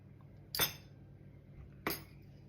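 Two sharp glass clinks about a second apart, as mincemeat is spooned into glass jars in a home kitchen; close and clear against a quiet background.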